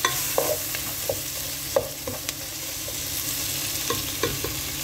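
Tomatoes sizzle in a pan while being stirred, a close, steady frying hiss broken by scattered scraping clinks of the spoon, with no voices, while a mussel dish is cooked.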